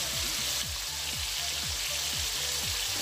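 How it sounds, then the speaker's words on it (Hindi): Chicken pieces frying in a pan for white chicken karahi, a steady close sizzle with a soft repeating scrape or stir sound running through it. "इसको अपने चिकन को हम 7 से 8 मिनट के लिए फ्राई करेंगे"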